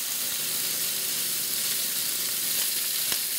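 Pork chops sear in a hot pan with a steady, close sizzle and a dense hiss that holds through, broken by a few faint crackles.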